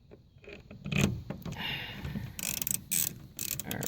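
Screws being driven to mount door speakers in a 2004 Ford F-150, heard as close ratcheting clicks and short mechanical whirs in irregular bursts with handling knocks between them.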